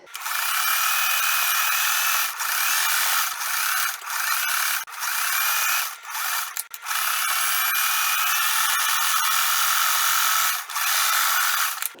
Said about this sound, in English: So I'm going to be machine stitching that on